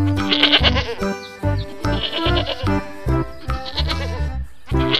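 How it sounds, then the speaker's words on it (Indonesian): A series of loud, wavering goat bleats, several calls in a row with short pauses between them, close by. "Kambing, kambing, kambing, kambing."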